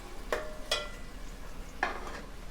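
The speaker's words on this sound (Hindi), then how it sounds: "सबसे पहले हम तेल गरम करके उसमें प्याज डालेंगे और प्याज को हल्का सा फ्राई करेंगे।" Onions fry in hot mustard oil with a soft, steady sizzle, broken by a few light clinks of a utensil stirring the pan. The sound is fairly quiet and close.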